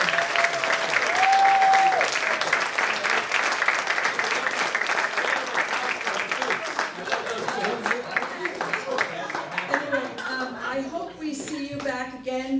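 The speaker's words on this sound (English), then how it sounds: "how about a round of applause for all of our musicians today?" An audience at a live jazz concert applauds the musicians, a thick stretch of clapping that slowly thins out, with a voice speaking over the tail end.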